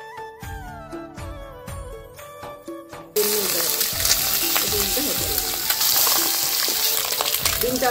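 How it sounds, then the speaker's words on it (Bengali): Eggs frying in a pan for egg curry, where ringing clinks and tones give way abruptly to a loud, steady close sizzle that lasts to the end. "ভেজে নিব ডিম।"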